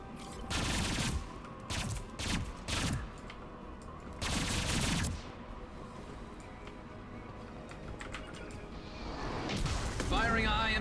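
Several heavy shots and bursts of weapon fire in Mass Effect 2 boom over a low, steady game rumble. A voice talks between them and a strange warbling effect rises near the end.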